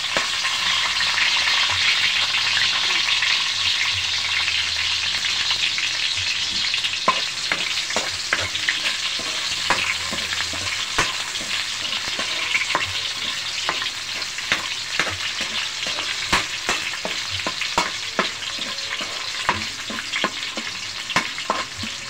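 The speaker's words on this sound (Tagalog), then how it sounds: "Unahin natin yung bawang. Mix natin yung sibuyas." Garlic and onion sauté in a pan, a continuous close sizzle with frequent scraping stirs and small clicks of the utensil against the pan throughout.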